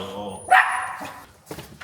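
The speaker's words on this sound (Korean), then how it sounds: "오 귀여운 강아지" A puppy gives a single sharp, close bark indoors, briefly overlapping with people talking in a home.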